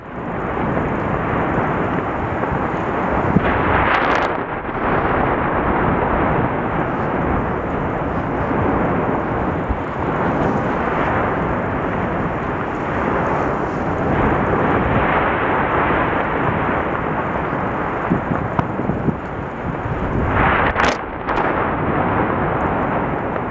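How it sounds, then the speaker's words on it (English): A volcanic fissure eruption roars as a loud, continuous rumbling blast that throws lava bombs. Brief sharper bursts stand out near the start and again toward the end, with no voices heard. "Wow, huge, massive eruption."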